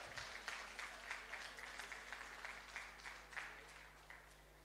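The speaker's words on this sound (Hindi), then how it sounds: "जोरदार तालियों के साथ" Loud applause at a ceremony, a broad wash of many hands clapping with repeated swells, continuing steadily throughout without speech.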